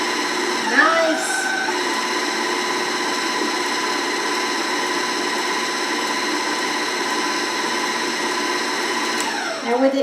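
An electric mixer blends the last batch of dry ingredients into stout cupcake batter, a steady close motor whine that runs unbroken throughout and tapers off at the end.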